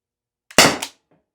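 A single sharp pop as a Byrna less-lethal launcher fires one shot, loud and close, with a short trailing burst after it and silence around it.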